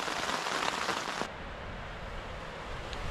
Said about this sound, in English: Very heavy rain and wind